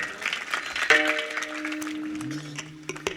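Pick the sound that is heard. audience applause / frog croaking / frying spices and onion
audience applause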